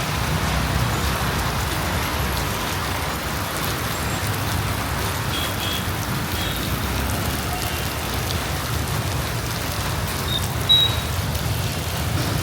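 Steady rain pours down during a motorbike ride on a road in Indonesia, a dense continuous hiss of drops on surfaces with a low road rumble beneath, no talking.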